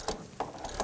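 A ratchet fitted with an E12 socket loosening a bolt on a 2007-2013 BMW 328i 3.0L inline-six during water pump replacement, giving three quick, faint clicking strokes in a quiet space.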